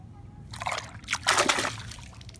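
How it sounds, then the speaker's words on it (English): A hand sloshes through swimming pool water in a few short swishes and splashes, close and fairly soft, with quiet pauses between the strokes. "reach backwards and put my left hand in my pool water"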